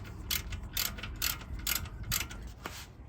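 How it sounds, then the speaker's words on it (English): A ratchet spins wheel nuts onto a car during servicing, giving repeated bursts of rapid clicking about every half second, close and clear over a low background hum. "I'm just going to whiz them up before I put the torque wrench on with the ratchet"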